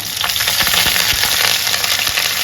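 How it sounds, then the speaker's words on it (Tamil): Curry tempering sizzles and fries in hot oil, a dense continuous crackle with soft stirring scrapes, close and steady. "நல்லா சேர்த்து நல்லா வதக்கலாங்க"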